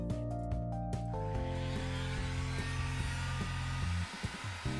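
A heat gun warms an iPhone 7 to soften its adhesive, producing a steady loud whooshing blower roar with a constant motor hum that runs throughout and briefly dips near the end.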